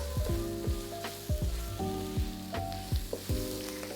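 Pak choy stalks stir-frying in a hot pan, a soft sizzle punctuated by repeated clinks and scrapes of a utensil stirring at a steady pace, fairly quiet and without talk.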